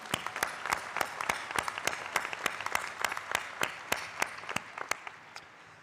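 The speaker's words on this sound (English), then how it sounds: "A round of applause for the performers," An audience at a university graduation ceremony applauds performers, including flag dancers and Chinese lion dancers, with loud, fairly sparse claps in an even rhythm that thin out toward the end.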